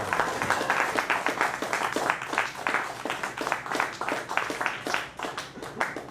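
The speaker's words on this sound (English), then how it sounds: "Thanks for clapping." Applause from an audience at a poetry night, following a reading; dense, steady clapping from a room of listeners fills the full stretch at a moderate, even level.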